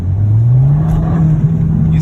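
An Audi's engine revving under light throttle taps, a loud, close drone that rises slightly in pitch and holds steady, with a voice over it.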